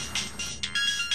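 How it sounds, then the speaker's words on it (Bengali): A short burst of an electronic phone ringtone for an incoming call, bright repeated tones pulsing a few times, moderately loud and alone with no talk. "আমার একটা ফোন চলে এসছে"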